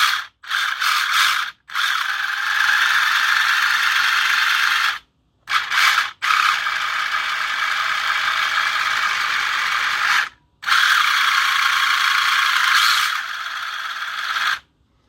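A Traxxas Mini Maxx RC truck's drivetrain with a gear diff and slipper clutch runs in a loud, steady mechanical whir and ratcheting grind, cutting out briefly several times before spinning back up, with no talk.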